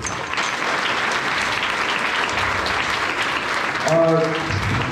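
Audience claps for a sketch cast at a Durga Puja event at a temple, steady applause throughout with a voice briefly heard near the end.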